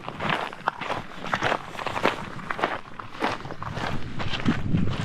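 Footsteps walk steadily along a trail through a nature reserve in Sweden, each step close and clear and continuing without pause, with no voices over them.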